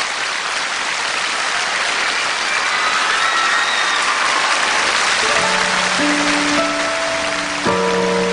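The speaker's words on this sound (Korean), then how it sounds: "팀 C의 무대를 큰 박수로 받아주시면 감사하겠습니다." A big concert audience claps in a dense, hissing wash that holds steady throughout. Sustained music notes enter beneath the applause toward the end.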